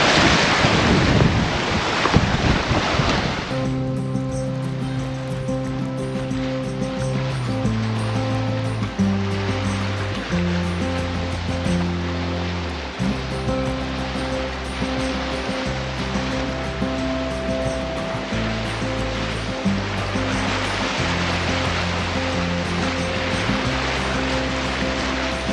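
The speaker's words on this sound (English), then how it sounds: "The wind has picked up a little bit." Wind roars over the microphone while sailing as waves wash against the boat, loud and constant throughout, with a low tonal hum droning underneath.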